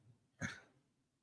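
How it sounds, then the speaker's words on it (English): A single short, muffled cough, fairly faint, from one person against a quiet background. "I'm coughing up a storm here."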